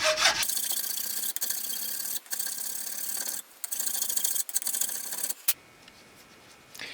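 Hardened JB Weld being filed smooth on a 2009 Mini Cooper door, rhythmic rasping strokes close by in several long passes with short pauses between them.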